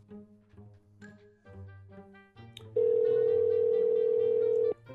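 A telephone dial tone starts abruptly once a call is cut off and holds steady and loud for about two seconds before stopping. It comes after a stretch of background music.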